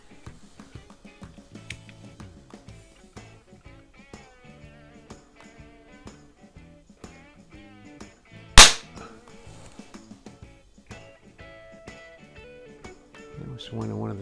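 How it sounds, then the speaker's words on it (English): A .177 pellet gun firing a used primer gives one sharp, loud cap-like crack partway through, set inside a garage amid a steady wash of soft background clatter and music-like sound. "I hear something plinking over in the side of the garage after I shoot."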